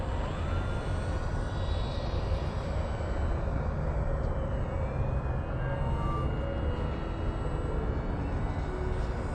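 A Dynam Waco 50-inch RC model biplane flies with its electric motor throttled back, a steady broad whirring drone with a faint shifting tone, continuous and fairly loud throughout.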